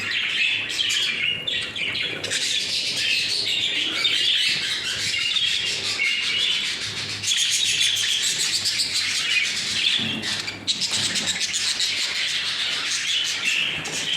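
Jumbo pigeons and their chicks give steady, busy chirping and tweeting calls, fairly close and continuous without pause.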